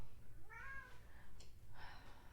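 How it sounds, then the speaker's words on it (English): A cat that wants to go outside meows from a short distance, first a drawn-out rising-and-falling call and then a second breathier meow, both fairly faint over a low background hum. "I'll deal with the cat. She's wanting out."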